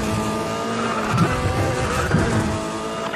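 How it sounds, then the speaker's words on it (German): Cars roar through a street race in the video game Need For Speed The Run, a dense loud blend of engine drone with brief surges and tire squeals, continuous and close. "also das ist ganz klar eine Art Straßenrennen"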